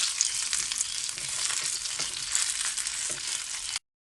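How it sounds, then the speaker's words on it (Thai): Plant-based crispy pork sizzles steadily in hot frying oil, a dense close crackling hiss that holds evenly for about four seconds with no talking. "ทอดเหมือนทอดหมูกรอบปกติเลยนะคะ ให้มันกรอบทั่ว สุกทั่วเลยนะคะ"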